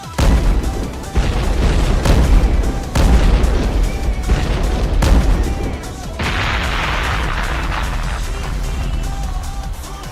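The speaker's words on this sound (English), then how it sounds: "It like blasts him out into the horizon." Heavy blasts from a weapon in a video game, several loud booming shots in quick succession spaced about a second apart, followed by a sustained hissing rush with no talking.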